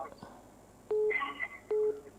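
A telephone busy signal from a phone accidentally left on during a Thai Buddhist monk's radio dharma talk: two steady tone bursts, moderately loud, with faint background speech around them.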